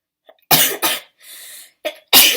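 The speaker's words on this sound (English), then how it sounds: "I'm really sorry I keep sneezing." A woman sneezes several times in quick succession during a sneezing fit, loud and close, with short quiet gaps and a breathy intake between bursts.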